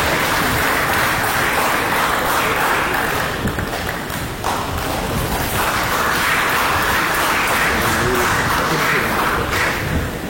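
Loud, dense applause fills the room for children at a celebration marking 25 days of the film Krishnam Pranaya Sakhi, the clapping and thumps carrying on steadily throughout.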